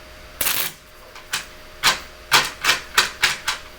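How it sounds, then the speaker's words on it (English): A tarot deck shuffled up close, a steady series of crisp papery riffles and snaps falling roughly every half second, clear and fairly loud with no voices. "So just the one more shuffle and then we're done."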